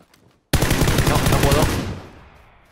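Automatic gunfire in PUBG, a single loud, close burst of rapid shots lasting about a second and a half that starts abruptly after a short silence and then fades away.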